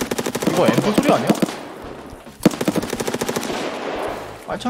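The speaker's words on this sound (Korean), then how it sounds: "이거 엠프 소리 아니야?" Rapid automatic M4 rifle bursts in the video game Escape from Tarkov, two long sustained strings of close, loud shots separated by a brief pause, with faint voices in the background.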